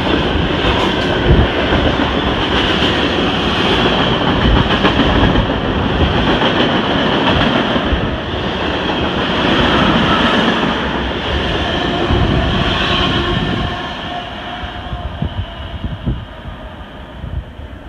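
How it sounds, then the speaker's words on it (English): A short Canadian National freight train rolls past Lapeer station in Michigan, with a locomotive in zebra-stripe paint. A loud, continuous rumble and wheel clatter hold for most of the pass, then ease off near the end. "a short Canadian National freight with one of the few last locomotives with zebra stripe paint"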